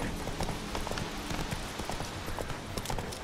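Roach, a horse in The Witcher 3, gallops with steady, rapid clip-clop hoofbeats that stay close and fairly even throughout, with no talk over them.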